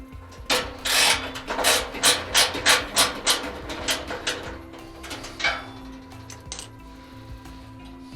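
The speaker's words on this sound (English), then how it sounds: "I will use a small adjustable wrench to get in there to remove the last 1/4 bit screw" Small adjustable wrench working a 1/4 bit screw inside a Maytag Centennial dryer, a steady run of close, scraping metallic ratchet strokes in quick rhythm, slowing and thinning toward the end.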